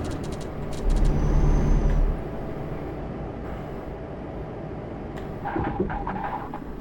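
A truck's air brake in Euro Truck Simulator 2 hisses loudly for about a second over a steady engine drone, followed by quieter rattles and a short burst of clatter near the end.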